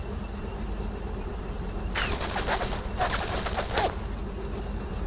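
Gunfire in the World War II shooter Brothers in Arms: Road to Hill 30, two dense bursts of rapid automatic shots, each about a second long, over a low battlefield rumble.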